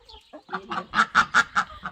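Chickens being fed cluck in a quick series of about eight close, rhythmic clucks that grow louder toward the middle, with no other sounds.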